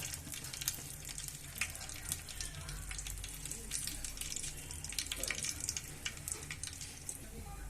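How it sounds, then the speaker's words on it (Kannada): Mustard seeds splutter in hot oil in a pan while a village-style nati chicken sambar is being started, giving a dense, steady crackle of close, rapid pops that lasts throughout at a fairly even loudness. "ಈಗ ಸಾಸಿವೆ ಸಿಡಿದಿದೆ"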